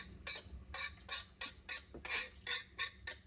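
A utensil scrapes rhythmically against a pan of shallots cooking for chicken pot pie, about ten quick, close strokes at an even pace with nothing else over them.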